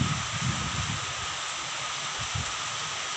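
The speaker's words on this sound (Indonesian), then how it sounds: "saya berada di tengah persawahan dan sekarang terjadi hujan deras" Heavy rain pours steadily over open rice fields, a dense, continuous hiss with low rumbling, heard close and unbroken, with no voices.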